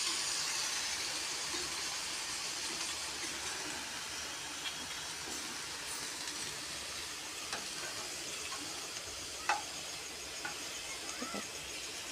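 Lentil fritters deep-fry in hot oil, producing a continuous close hiss with scattered small pops that holds steady throughout.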